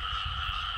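Frogs calling at night in a rural Mekong Delta field, a brief steady burst of croaking and trilling in a constant outdoor chorus.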